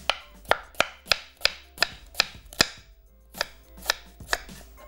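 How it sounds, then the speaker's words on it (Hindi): A knife slices thickly through an onion on a cutting board, a dozen or so sharp, evenly spaced chops ringing out close and clear with brief pauses, no voices. "यहाँ जनाब 1 अदद प्याज, थोड़ा सा मोटा स्लाइस करेंगे"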